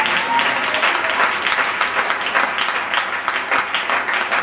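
A church congregation applauding in praise of the Lord, dense sustained clapping from many hands filling the room, loud and steady for the whole span.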